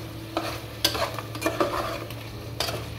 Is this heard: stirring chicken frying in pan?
yes